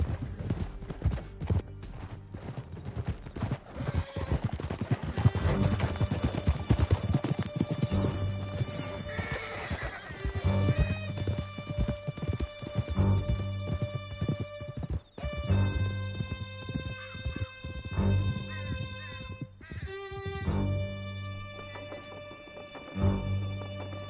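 Horses gallop through a canyon in Red Dead Redemption 2, their hooves drumming in a fast, continuous clatter while whinnies and neighs break through, all set against sustained musical tones.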